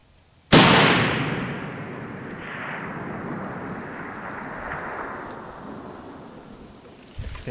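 A single .338 Lapua Magnum rifle shot fired at a 1,000-yard target outdoors: one sharp, loud blast followed by a long rolling echo that fades over several seconds.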